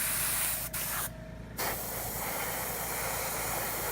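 Airbrush spraying paint onto miniature tabletop terrain, a close steady hiss that cuts out briefly for about half a second, then resumes continuously.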